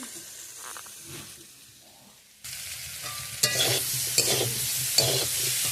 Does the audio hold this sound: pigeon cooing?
no